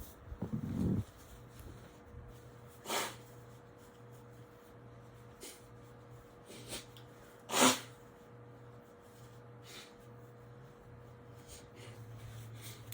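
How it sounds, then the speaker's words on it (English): A few sharp, breathy blasts of someone blowing their nose, spaced apart, with quiet pauses and a faint steady hum between them. "I had to blow my nose."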